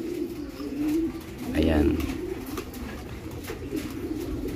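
Young racing pigeons on a rooftop coo in a low, soft burst near the middle, with other birds faintly around and a person speaking briefly.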